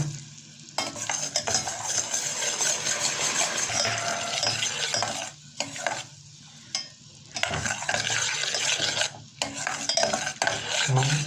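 A spoon stirs sugar melting and browning in a pan for homemade golden syrup, giving steady scraping and light sizzle in long bursts broken by short pauses, close up with no talking.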